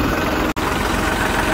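A New Holland 3630 tractor idles with a steady, low mechanical drone. The hum stays even throughout, broken only by one brief dropout, and no one speaks.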